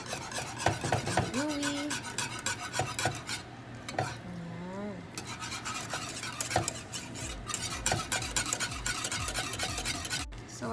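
A thickening béchamel sauce for baked macaroni is stirred in a pot, the spoon rasping and scraping steadily with a faint sizzle underneath, close and fairly quiet, while someone says a few words.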